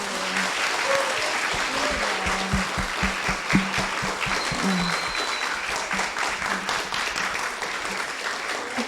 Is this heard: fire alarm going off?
no